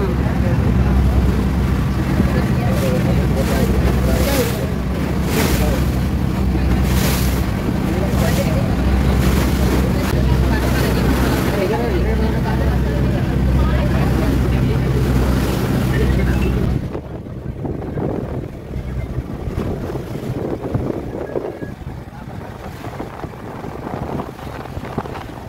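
A boat crossing open sea toward Elephanta Caves near Mumbai, with a steady engine rumble and heavy wind buffeting the microphone that eases partway through, loud and continuous.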